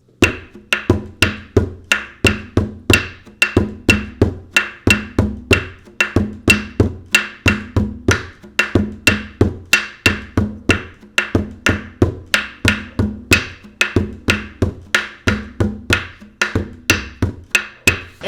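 Djembe plays a busy Afro beat with bass strokes and stick hits combined, a dense, fast, even rhythm of close, sharp strikes over low thuds throughout.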